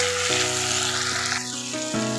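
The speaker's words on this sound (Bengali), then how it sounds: "টমেটোগুলো একটু ভালো করে ভেজে নেব" Chopped tomatoes sizzle and fry steadily in a pan alongside onions, a continuous close hiss with faint crackles running throughout, under a soft tonal background.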